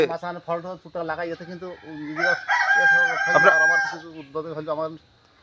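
A rooster crows loudly and close in a village courtyard, with a long drawn-out call preceded and followed by a series of rapid clucks, heard alone.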